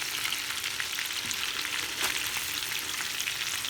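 Breaded homemade KFC-style chicken fries in a pan with a dense, continuous sizzle and crackle, close and steady, with a slight flare of popping near the middle.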